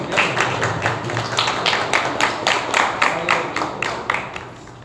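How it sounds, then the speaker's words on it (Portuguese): A church congregation applauds its pastor with rhythmic, fairly steady hand clapping that holds an even beat and ends in a few scattered claps, with no voices heard. "Vamos dar uma salva de palmas, o pastor da igreja"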